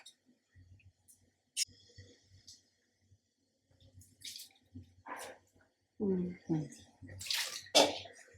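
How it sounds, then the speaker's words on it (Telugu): Hot water is poured in short splashing bursts while cleaning goat tripe, some louder than others, with brief pauses and a bit of talking between pours. "ఇట్లా గరం వాటర్ పోసుకుంటా"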